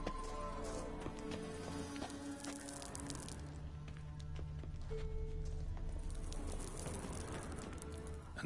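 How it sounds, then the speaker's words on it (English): Horse hooves from The Witcher 3 video game, a kelpie mount clip-clopping in a steady repeated rhythm, close and fairly clear, layered over game music and ambient background tones. "Another horse. Almost exactly like the last one."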